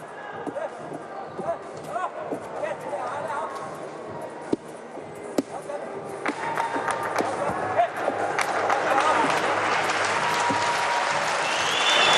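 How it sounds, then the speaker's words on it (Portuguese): Audience applause at a men's artistic gymnastics World Cup in Doha, Qatar, during a routine; steady crowd clapping that grows louder and denser toward the end, with a voice talking over it. "Arranca aplausos no Catar durante a prova."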